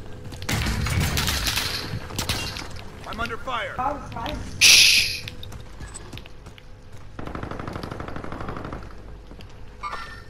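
Video game gunfire in Call of Duty Warzone, a mix of rapid shots and a sharp burst amid a player talking, with water sloshing sounds later.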